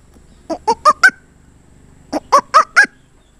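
A man imitates the soft resting call of the Western tragopan (jujurana) pheasant, giving two close, even bursts of four short clucking notes each, separated by a brief pause.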